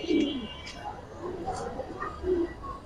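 A Giribaz silver pigeon coos in low, soft, repeated pulses at close range while people talk over it.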